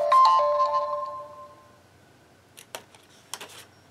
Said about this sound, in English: It's just a reminder on my phone.